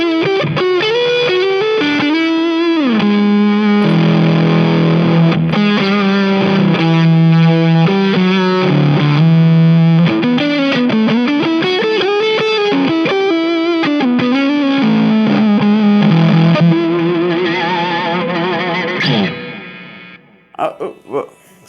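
An electric guitar fitted with Harley Benton TE-62 pickups plays a heavily distorted metal riff, loud and sustained, with chugging low notes and sliding melodic lines for about twenty seconds before it cuts off and brief picked notes sound.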